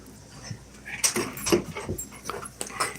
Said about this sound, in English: There's the puppies.